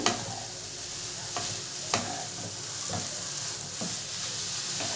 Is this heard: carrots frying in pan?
yes